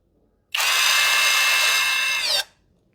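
A GearUP cordless hand drill with a brushless motor whirs loudly at steady speed for about two seconds, starting and stopping abruptly, with no talking.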